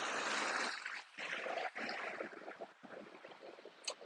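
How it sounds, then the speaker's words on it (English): Water rushing and splashing outdoors, a steady broadband wash that swells and dips with short pauses, fairly close and alone without voices. "Listen to some of this water over here."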